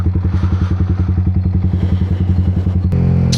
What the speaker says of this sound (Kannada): ಎಕ್ಸಾಸ್ಟ್ ನೋಡ್ಕೊಂಬಿಡಿ ಒಂದು ಸತಿ ಎಕ್ಸಾಸ್ಟ್ ಹೆಂಗೆ ಬರುತ್ತೆ ಅಂತ